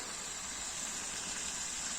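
Water runs through a small sluice at a newly finished retention reservoir in Złotów, making a steady, close, continuous rushing trickle that fills the whole stretch with no voices.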